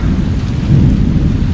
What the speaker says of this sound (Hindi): भाई बारिश फिर से स्टार्ट हो गई और बहुत तेज आ रही है।